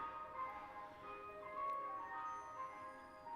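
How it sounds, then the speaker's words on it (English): An ice cream truck plays its tinkling jingle melody somewhere outside, faint and distant, with the tune carrying on continuously throughout. "we're about to get the obligatory ice cream truck"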